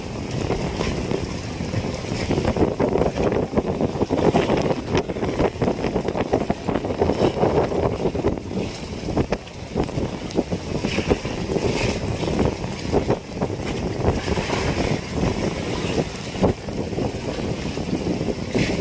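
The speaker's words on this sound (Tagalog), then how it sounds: "Nagbago na naman ang ihip ng hangin." Strong typhoon wind buffets a boat at sea off Surigao during Typhoon Kabayan, a loud continuous roar with gusting microphone rumble and water churning close by, no talk.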